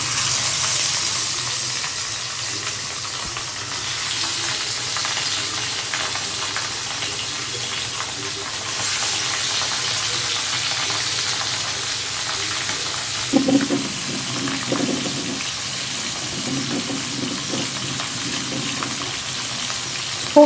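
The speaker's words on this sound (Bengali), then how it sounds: "এখন মাছগুলো একটা একটা করে ভেজে নিতে হবে।" Pieces of catla fish fry in hot oil with a continuous, even sizzle and crackle that holds steady throughout, with a few bumps and stirring noises partway through.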